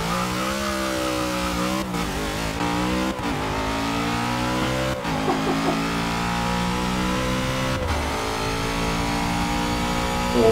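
A D-class car in Forza 6 roars at full throttle and revs hard through several upshifts, the engine loud and continuous for the whole stretch, with no one talking.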